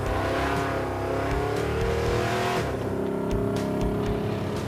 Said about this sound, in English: that episode also has Finnegan's famous comment on the truck's killer exhaust note